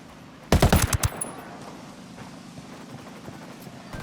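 Automatic gunfire in Ghost Recon Wildlands fires a rapid, loud burst of about eight sharp shots, then fades into a low ambient rumble with no voices.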